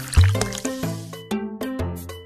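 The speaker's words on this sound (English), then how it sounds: "Let's give the puppy a shower." Cartoonish shower water splashes and gurgles over a puppy in a pet doctor video game, sounding as loud, close, bubbly liquid bursts in quick succession.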